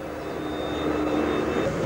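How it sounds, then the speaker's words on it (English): A rail grinder grinds a tram wheel, giving a steady, loud whining roar with a high thin tone riding on top, continuous for the whole stretch. "That is, in fact, a grinder up there."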